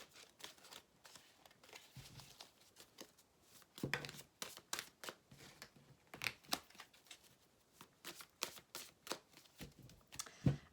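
Tarot cards being shuffled by hand, a quiet series of crisp riffling and slapping bursts repeating at an uneven rhythm with short pauses between, close and without speech.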